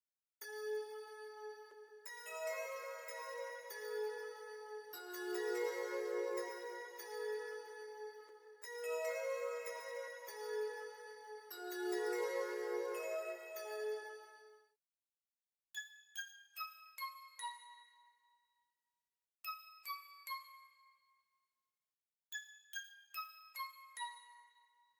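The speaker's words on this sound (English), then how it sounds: "And then after that, there's two bell leads." Two synth bell leads in a pluggnb beat: dense, shimmering layered bell chords ring for the first half, then give way to sparse, crisp single bell notes in short bursts, with no voices.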